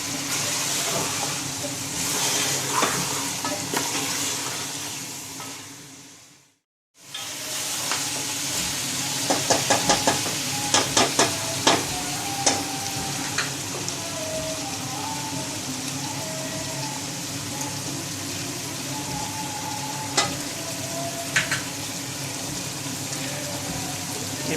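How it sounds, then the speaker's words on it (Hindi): Mutton trotters (paya) fry in spices in a pan with a steady, close sizzle, broken briefly by a pause, then punctuated by clinking stirs of a spoon against the pot. "पाए डालने के बाद हम इनको अच्छे तरीके से भूनेंगे कुछ देर के लिए। मसाले के अंदर भूनेंगे"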